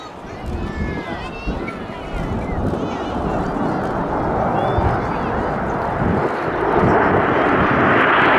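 RAF Red Arrows jets flying overhead at the Midlands Air Festival display, a loud sustained jet roar building and swelling as the aircraft pass, with a public-address commentator talking over it.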